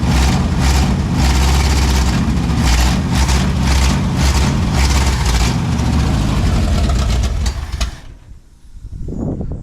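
An engine suspected of a weak fuel pump idles roughly and loudly up close with a pulsing, uneven rumble for about eight seconds, then abruptly cuts out and dies, leaving near quiet with a faint low stir.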